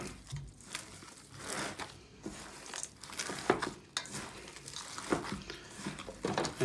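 Ground beef and pork are worked together with French's fried onions for burger patties, giving soft squelching, crinkling and sticky mixing sounds in irregular bursts, close and fairly quiet, with no voices.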